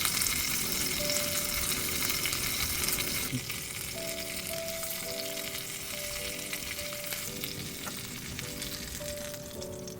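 Marinated, flour-coated fish fries in hot oil in a pan, a continuous loud, close sizzle and crackle that eases slightly after a few seconds, with faint ringing tones underneath and no voices.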